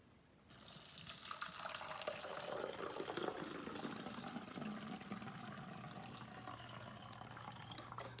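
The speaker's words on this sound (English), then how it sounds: "we're going to put in 2/3 of this bottle with rubbing alcohol" Rubbing alcohol pours in a steady, hissing stream into a hand sanitizer bottle, starting abruptly and continuing unbroken at close range with a faint low hum underneath.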